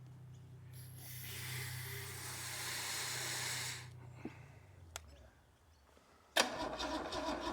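An old starter cranks an abandoned Holden engine in a steady, low, droning whir that runs for about four seconds and then stops without catching. A few sharp clicks follow, and then a loud burst of hiss or clatter.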